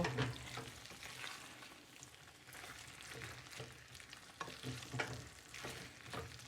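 Masala potatoes in a mushy sauce are stirred in a pan for an Indian dish, a steady soft sizzle broken by repeated scraping strokes of the spoon against the pan.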